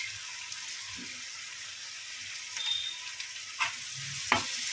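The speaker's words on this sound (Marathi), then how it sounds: "परतून घ्यावे त्याला" Dry Bombay duck masala with turmeric and salt sautés in a pan, a quiet steady sizzle broken by a few soft scrapes and stirs, with no talking.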